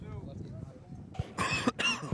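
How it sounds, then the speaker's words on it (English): A single cough from a spectator in the left-side bleachers at a high school baseball game, sharp and close, breaking in after a stretch of talk with crowd and field ambience underneath. "My apologies for that cough."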